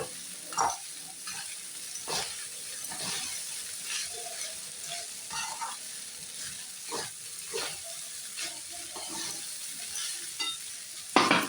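Steady frying sizzle of flattened rice pulao in ghee, with repeated scraping and stirring strokes of a spoon in a pan, fairly close and moderately quiet.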